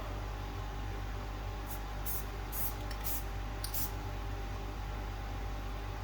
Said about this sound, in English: put another coat of paint after that